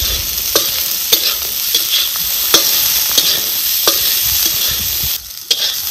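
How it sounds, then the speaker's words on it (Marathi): Green peas roasting in oil in a pan for a village-style curry, with a steady close sizzle broken by sharp scraping clacks from a spoon stirring at irregular intervals, and a brief lull near the end. "आपल्याला चांगला वाटाणा असा मऊ पडस्तवर भाजायचा"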